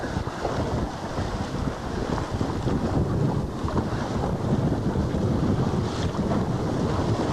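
A sailboat under way at sea, with wind buffeting loudly and steadily and waves rushing along the hull, with no talk.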